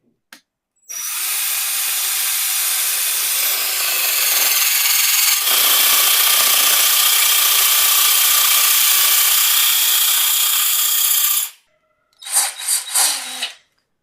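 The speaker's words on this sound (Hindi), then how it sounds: "चलिए अब हम इसे दीवार पे ड्रिल करके देखते हैं।" A budget electric drill without a hammer function, fitted with a separately bought concrete bit, bores into a concrete wall with a loud, steady grinding whine for about ten seconds, then stops, followed by a few short bursts.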